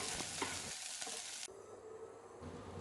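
Rock salt and red chillies dry roasting in a pan give a close, scratchy rattle and stirring scrape that drops abruptly to a softer hiss halfway, with no voices.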